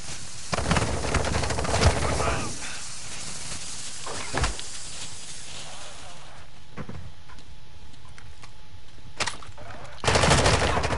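Bursts of automatic gunfire rattle in a Call of Duty match, loud and close, with dense volleys early, scattered shots in the middle and a fresh burst at the end, under voices talking.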